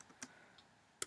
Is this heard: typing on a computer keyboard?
yes